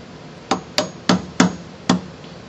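Five sharp metallic hammer blows on a nut, driving down an Align motor bearing, land in an uneven rhythm, close and loud, with short ringing decays and no talking.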